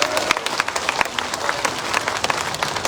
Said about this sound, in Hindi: दोनों हाथ ऊपर उठाकर तालियां बजाकर आशीर्वाद दीजिए